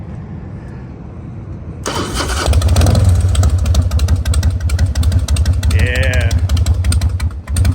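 A 2003 Harley-Davidson Softail Standard with a carbureted engine and straight pipe exhaust fires up after a quiet start, then settles into a loud, lumpy idle that runs steadily close by, with a brief spoken word over it.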